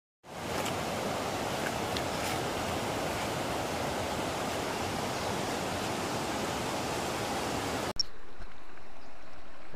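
River water flows continuously, a loud, dense, even rush of broadband noise close by that cuts off abruptly near the end.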